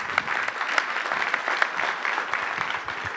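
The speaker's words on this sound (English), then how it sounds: "Let's give him another round of applause" Steady applause from a conference audience at a tech summit, dense and sustained, filling the room with no break.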